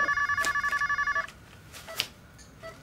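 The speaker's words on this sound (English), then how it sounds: "Oh, I have a phone call." A telephone bell rings for an incoming call in a repeated electronic trill for over a second, then stops, followed by faint clicks and quiet room sounds.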